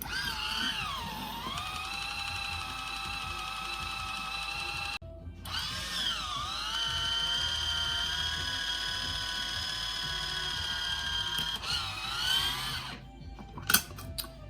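A can opener cranks around the rim of a can during cooking, giving a close, steady ratcheting and grinding whir in two long runs split by a brief pause, with a small clunk near the end.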